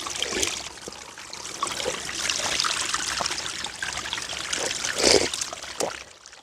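Cold spring water trickles and splashes close by in a steady, moderately loud flow, with a brief louder gush near the end and no talk over it.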